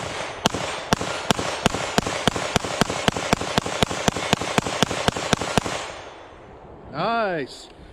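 A Keltec PR57 pistol firing Fiocchi ammunition rips off about twenty sharp, evenly spaced shots in quick succession, then the shooting stops and a brief whooshing sound follows.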